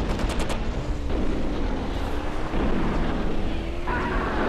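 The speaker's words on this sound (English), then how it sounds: "I'm just gonna keep shooting" Sustained gunfire in the Twisted Metal 3 vehicular combat game, a dense stream of shots and explosive blasts over a constant loud roar of engine and effects, with a burst of sharp pops at the start.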